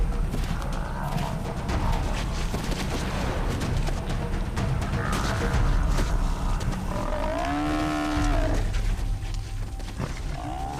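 A buffalo bellows and groans while two lions attack it in the wild, with deep roars and drawn-out moaning calls over a constant rough scuffling din.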